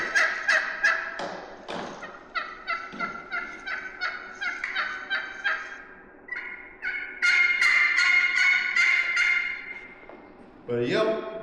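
A series of turkey yelps, short raspy notes in quick rhythmic runs, repeated several times close by from a hand-operated caller imitating the bird.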